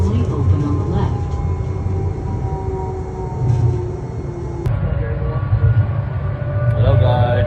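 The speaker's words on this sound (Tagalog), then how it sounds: "Andito kami sa tren." Steady rumble and rattle of a passenger train ride near Bridgeland Memorial Station, continuous low drone with faint clunks and brief high squeals, under quiet background voices.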